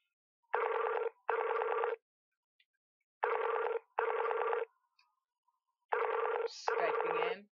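A phone rings inside the GTA V video game, three pairs of clear electronic ring bursts with pauses between them, loud and close, with a brief voice-like sound near the end.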